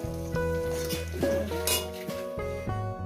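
A metal utensil clinks against a pan several times, in irregular taps, as fried potatoes are lifted out of it while cooking mutton curry with potatoes, with faint frying in the background.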